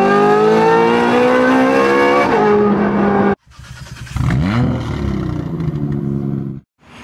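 A Ferrari 430 Scuderia's exhaust roars loud and near, holding a high rev before cutting off, then revving again with a rising and falling engine note.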